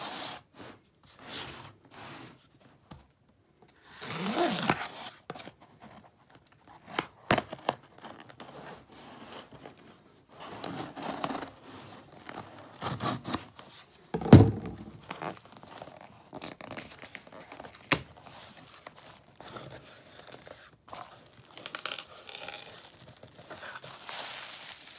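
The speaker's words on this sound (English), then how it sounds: "let's cut this beast open." Someone cuts open a Vinegar Syndrome Black Friday shipping box up close, with scattered scraping, tearing and crinkling noises coming in irregular bursts between quiet gaps, and no speech.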